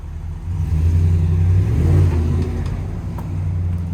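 A deep Hemi V8 exhaust on a 2019 Ram 1500 Classic Warlock 4x4 revs up loudly from idle, holds a rumbling roar, then settles back to a steady throaty burble close by.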